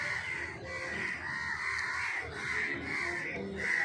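Crows near their nest tree caw loudly and repeatedly in a quick, ragged series of harsh calls, several birds overlapping close by.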